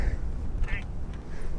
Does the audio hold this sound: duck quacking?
yes